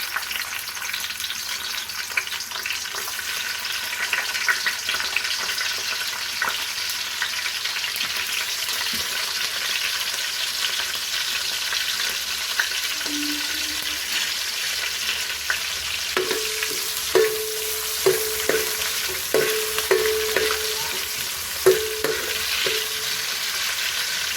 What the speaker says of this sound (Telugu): ఆయిల్ హీట్ అయినప్పుడు మనం ఇందాక తరుక్కున్న ఉల్లిగడ్డలు వేసుకుందాం.